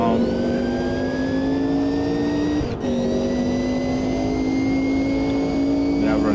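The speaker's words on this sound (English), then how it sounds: "Blipping on the downshift and in we go, keep it smooth round here" Racing car engine in Automobilista 2, a C Class race car, droning at steady high revs with sharp whining harmonics, briefly cutting out for a quick downshift blip before pulling again, loud and continuous throughout.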